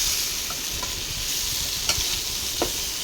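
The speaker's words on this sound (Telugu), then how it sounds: "ఆ ఉల్లిపాయలు, ఆ పసుపు అంతా ఈ ఆలుగడ్డ ముక్కలకు పట్టేలాగా కలుపుకోండి." Potato pieces with onions and turmeric are stirred in a hot pan, giving a steady close frying sizzle with a few soft scraping knocks of the spoon against the pan.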